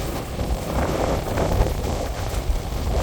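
Light wind blowing steadily outdoors in Jaffna as a storm approaches, a continuous broadband rush with mild gusting and buffeting at the microphone, no other sounds standing out.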